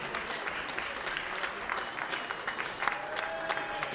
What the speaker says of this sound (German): beide haben wirklich einen großen Applaus verdient.